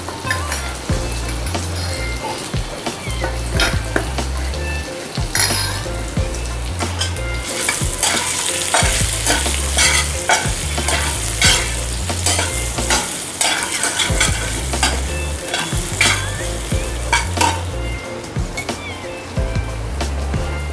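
Leftover spice mix is stirred into bitter gourd frying in a pan, with repeated scraping stirs and clinks over a steady loud sizzle throughout and no talking.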